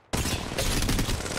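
Sustained automatic gunfire from a shooter game, Apex Legends Mobile, starting abruptly and continuing as a dense, loud barrage of rapid shots with no gaps.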